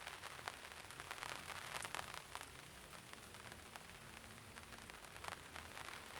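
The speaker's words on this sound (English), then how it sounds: "the trampoline over our heads provides a nice surface for the rain to hit" Steady rain patters on a trampoline stretched overhead, a dense, even crackle of drops with brief brighter taps, loud and close with no talking.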